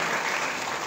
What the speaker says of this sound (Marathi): एकदा जोरदार टाळी या लेकरांकरता.